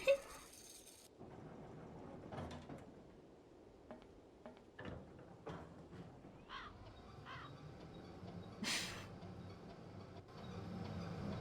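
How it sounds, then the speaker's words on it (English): Loud bird cries in the video game Syberia, a series of sharp, crow-like caws scattered through the stretch, standing out over a low ambient game background with no speech. "there's a very loud bird there."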